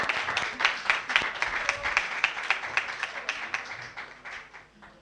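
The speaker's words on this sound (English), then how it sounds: "Keep clapping until we finish presenting all the certificates." An audience claps steadily at a senior high school debate competition while certificates are handed out, a dense burst of applause that gradually thins and fades over a few seconds.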